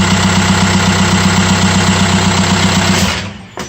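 A 2015-era Audi allroad 2.0 TDI BHW PD diesel engine with a new starter motor runs at a loud, steady close-up idle with a rough rhythmic knock, then cuts off abruptly near the end.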